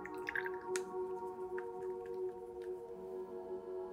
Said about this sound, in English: I'm just gonna start slowly adding some water.